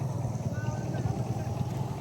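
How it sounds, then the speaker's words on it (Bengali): A trawler boat motors across the water toward the shore, its low engine drone steady and continuous beneath rushing wind at the waterside. "নৌকা প্রায় আইসা গেছে কাছাকাছি।"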